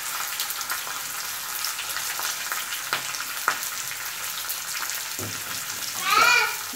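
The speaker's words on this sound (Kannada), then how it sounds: "ಮತ್ತು ಹಸಿ ಶುಂಠಿಯನ್ನು ಹಾಕಿ ಚೆನ್ನಾಗಿ ಹುರಿಕೊಳ್ಳೋಣ." Onion, green chilli, curry leaves and ginger frying in oil for rava upma, a steady close sizzle with a few light stirring clinks and a brief louder hiss near the end.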